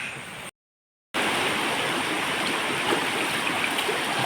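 A river stream in full flow, with a steady, dense rush of water close by. The sound drops out briefly near the start, then returns at an even level with no voices.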